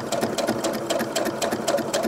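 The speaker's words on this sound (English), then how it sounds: "I'm going to start sewing." A sewing machine stitches doll clothes in a fast, even run of mechanical needle pulses, close and steady throughout, with no talking over it.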